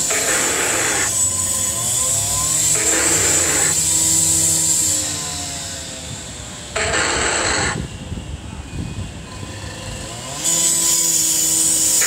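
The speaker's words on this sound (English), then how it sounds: "drilling the hell out of the street." Street works outside, a power drill boring into the road surface, heard as a sustained loud mechanical drone with harmonic pitch bands that rise and fall in several bursts, broken by brief gaps.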